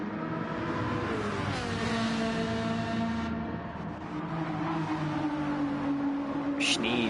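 Ferrari race car engines in a racing video game, several cars droning and revving with rising and falling pitch through gear changes, a continuous close roar of mixed engines.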